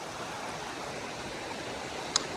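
A cold creek flows along a hiking trail in a steady, even rush of water close by, unbroken and alone, with one brief faint tick near the end.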